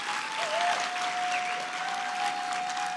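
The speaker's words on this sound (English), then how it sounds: "Let's welcome the minister with a good round of applause" Audience applause welcoming a minister at the BOM Finale 2025 event, Day 2: a steady, full round of clapping that lasts throughout, with a thin sustained tone ringing underneath.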